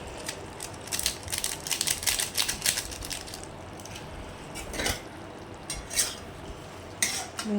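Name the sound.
stirring potol (pointed gourd) curry in pan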